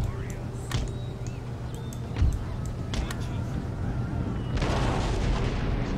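Canister shot artillery fire in the battle game Empire Total War, a rolling series of low booms and crackling blasts of cannon, with a louder surge of dense, noisy fire toward the end and distant battle rumble throughout.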